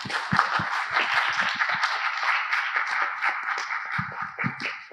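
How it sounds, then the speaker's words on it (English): A crowd applauding at the close of the India Global Innovation Connect event, dense overlapping clapping that continues steadily for several seconds with some louder nearby claps. "I'd like to give you a big round of applause first"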